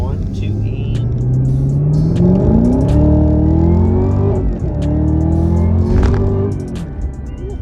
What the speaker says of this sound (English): I'll do a little pull for you guys. You can hear this thing.